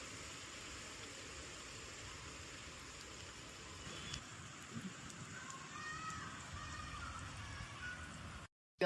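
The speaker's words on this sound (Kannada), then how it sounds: "ಫುಲ್ ಮಳೆ." Heavy rain falls steadily in a park, a continuous dense hiss of drops on surfaces, moderately loud and even, cutting off briefly near the end.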